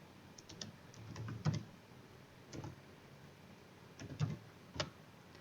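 HTML code is typed on a computer keyboard in short irregular bursts of crisp key clicks with pauses between, close and fairly quiet over a low room hiss.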